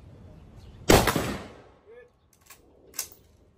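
A Philippine-made ARMSCOR Torch 5.56 rifle fires a single loud, sharp shot at a firing range, followed by a decaying tail, then a few faint metallic clicks and knocks.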